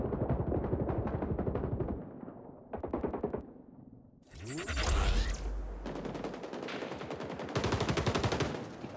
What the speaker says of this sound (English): Damn automatic shotgun.